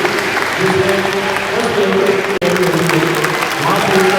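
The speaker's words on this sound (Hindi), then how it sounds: "देखिए गांववासी तालियां बजा रहे हैं।" Villagers applaud at a welcome ceremony for a returning national gold medal winner, a dense, continuous clapping that briefly cuts out midway. Someone talks over it throughout.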